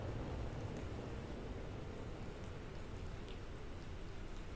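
Steady rain falls on a planet in The Planet Crafter, a dense, even hiss that holds unbroken with a low rumble beneath and no voices.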